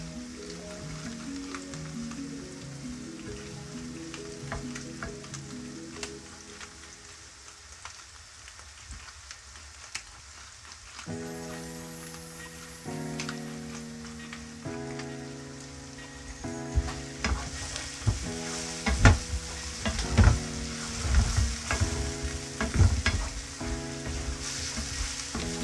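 Food fries in a pan with a steady crackling sizzle, growing louder and more spattery toward the end, while music plays underneath.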